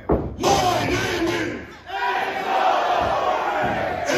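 A loud wrestling arena crowd chants in unison to introduce a wrestler at a live event. The roar briefly dips before swelling again into sustained massed voices.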